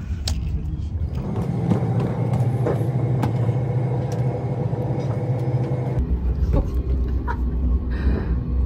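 Interior of a moving train carriage, a continuous low rumble of the wagon with steady road-like noise, shifting in tone partway through.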